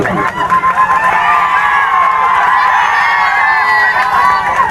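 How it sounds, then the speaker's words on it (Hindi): A crowd at a village football match prize ceremony claps and cheers, with shouts and whoops over steady applause, loud and close, while voices carry over the noise. "जोरदार ताली से स्वागत करें।"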